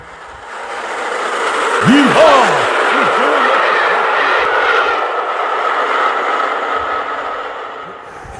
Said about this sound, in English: Fast train approaching.